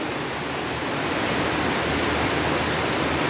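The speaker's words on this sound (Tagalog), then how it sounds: "Grabe lakas ng ulan mga idol." Heavy rain pours down in a dense, unbroken hiss of drops hitting surfaces, loud and steady throughout, with no voices.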